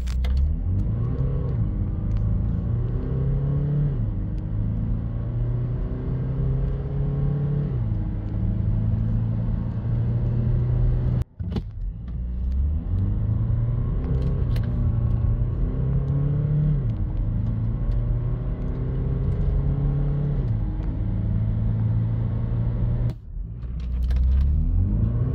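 A Skoda Karoq with the 115 hp TDI diesel accelerating hard through the gears, engine note climbing then dropping at each shift, heard from inside as a steady loud drone with road rumble underneath.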